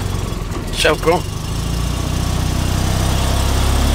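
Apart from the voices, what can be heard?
Fiat 126p engine started and running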